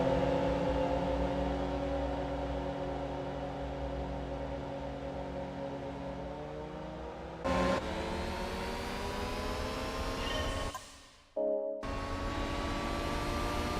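Small-engined Suzuki K-Works car in Gran Turismo 4, a sustained buzzing, whirring engine drone with a rising pitch through the gears and brief gear-change breaks, steady and alone.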